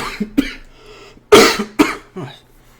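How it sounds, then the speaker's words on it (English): A few sharp, close coughs break out one after another, with a short pause between bursts. "I've got the coughs going a little"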